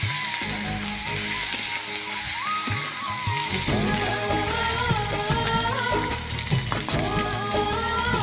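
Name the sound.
eggs and potatoes being sautéed in a pan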